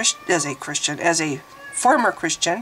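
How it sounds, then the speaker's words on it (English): A white Persian pet cat named Teddy meows repeatedly in short, close, strained cries, interleaved with a person talking. "I have a cat meowing now"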